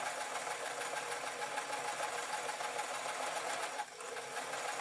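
A domestic sewing machine stitches a blouse in a steady, continuous mechanical whir that runs close and even, dipping briefly near the end before resuming.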